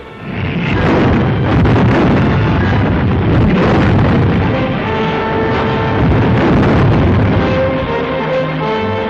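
Artillery guns fire and shells explode in a wartime battle at Suchow on the far eastern front, a dense, continuous loud rumble of booms with no pauses, heard in old newsreel sound.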